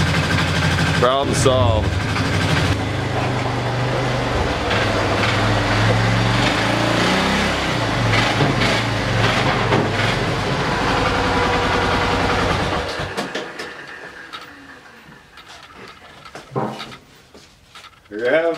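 A Polaris Sportsman 500 ATV engine idles steadily as it warms up, a loud continuous rumble up close that drops away near the end, with someone speaking briefly partway through.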